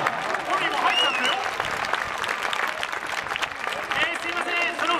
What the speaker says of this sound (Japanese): このゲームには拍手をしてる。